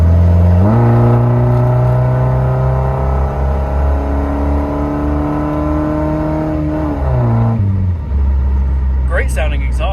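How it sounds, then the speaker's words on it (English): A Volvo car engine drones loudly up close through its exhaust, its pitch climbing as it revs, then dropping away before settling into a low rumble. "Great sounding exhaust, I might say."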